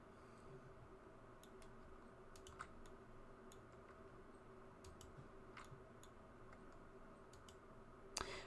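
Quiet, sparse computer mouse clicks at a desk while modelling in Blender, faint single and double taps over a steady low hum.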